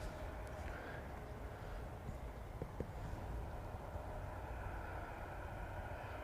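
An aging Jet2 Boeing 757 on approach to runway 05 left, a steady distant engine roar and broadband rumble heard from afar, continuous and fairly faint.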